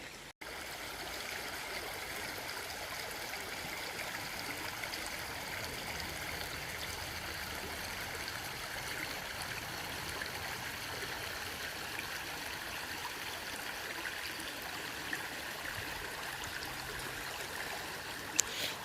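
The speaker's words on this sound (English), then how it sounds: "So this lovely waterfall is where we've ended up on the other side of the bridge" A waterfall by a bridge rushes in a steady, broad wash of flowing water, constant and moderately close, with no talking over it.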